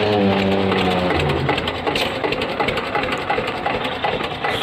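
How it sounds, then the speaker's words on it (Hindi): A tractor pulling a trolley loaded with straw chugs past at a fodder market, its engine a loud, steady rumble that drops into a rough, rattling drone as it draws near. "यह एक जमींदार की और ट्राली आई है भाई"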